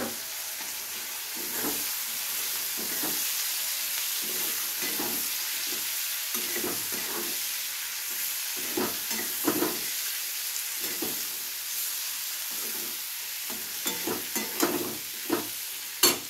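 Chopped onions frying in oil left from frying fish for a Bengali fish curry, with a steady close sizzle and hiss broken by repeated scraping and tapping of a spatula, louder toward the end.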